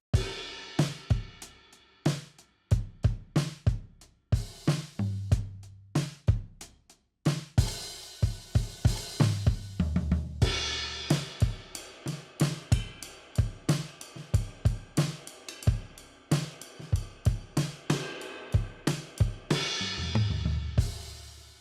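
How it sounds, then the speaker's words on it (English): Drum groove from the Favorite Kit Dead preset in Logic, indie folk style, with dry, damped kick and snare hits in a steady pattern over soft cymbals, close and alone. "the Favorite Kit Dead is a little different, and those sound like this"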